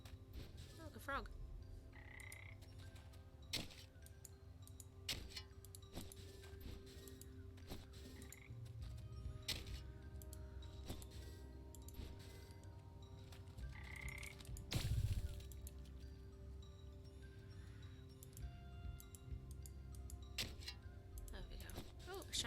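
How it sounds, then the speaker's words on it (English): Frog croaking in the game Wytchwood, quiet repeated croaks and clicks over soft ambient game music, with a muffled thump midway. "Oh, look, a frog."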